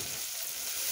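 Garlic with a pinch of salt and onion frying together in a pan with a little fat, giving a steady, close hiss of sizzling oil that holds evenly for the whole moment with no voices.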